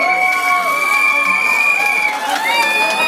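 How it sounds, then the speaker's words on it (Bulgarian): A live audience at a cooking or cake show cheers and shouts loudly, with high whoops and children's voices. The noise is sustained and loud for the whole stretch. "Аплодисменти за Мануел"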